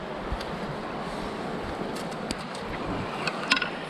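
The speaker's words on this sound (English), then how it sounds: "Wind is really, I don't know if you can hear, but it's really picking up" Wind picking up beside a river during early summer fly fishing, a steady broadband roar and rush of gusts against the microphone with faint water sound, no talking.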